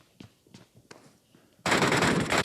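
Rapid bursts of machine gun fire from a multiplayer shooter video game, a few sharp scattered shots followed by a sustained loud automatic volley that runs to the end.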